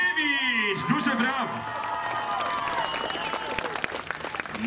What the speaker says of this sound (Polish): Przed państwem Konrado Paszkiewicz! Duże brawo!